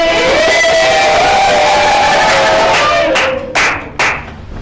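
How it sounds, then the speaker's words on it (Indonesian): A classroom group claps continuously, the sound dense and loud at first, then thinning to a few final claps near the end. "Tepuk tangan untuk kelompok NTB."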